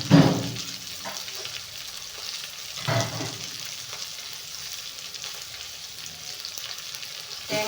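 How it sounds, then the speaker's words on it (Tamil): Coriander powder tempering in a hot pan gives a soft sizzle with two louder bursts of frying, one at the start and another a few seconds later, then a quieter crackle that continues. "மல்லித்தூள் கொஞ்சோண்டு கடைசியில் தாளித்து விடணும்"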